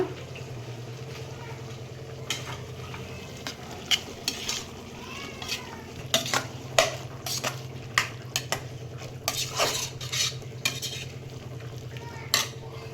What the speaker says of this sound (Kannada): ಈಗ ಚೆನ್ನಾಗಿ ಮಿಕ್ಸ್ ಮಾಡ್ಕೊಂಡ್ಬಿಡೋಣ